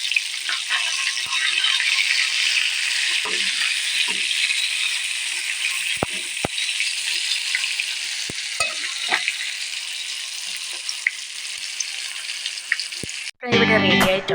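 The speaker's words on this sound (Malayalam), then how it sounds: "നമ്മുടെ ചിക്കൻ്റെ ഒരു സൈഡ് ഫ്രൈ ആയിട്ടുണ്ട്. നമുക്ക് തിരിച്ചിട്ട് കൊടുക്കാവേ" Chicken pieces frying in a pan, a loud steady hiss of hot oil with scattered crackles and pops, a few sharp clicks as the pieces are turned over, close up.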